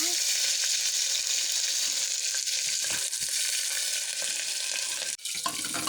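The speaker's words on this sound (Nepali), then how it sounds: "थोरै जिरा राख्ने गइरहेको छु यसमा, अनि साथमा प्याज राख्दैछु।" Chopped onion and cumin seeds frying in oil in a pressure cooker pot, giving a loud, steady close sizzle with occasional soft stirring knocks.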